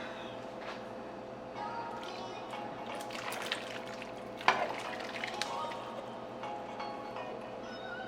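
Sauce hits a hot pan of Hawaiian brisket, setting off a steady close sizzle and frying hiss with a sharper splash partway through, while a voice talks quietly in the background.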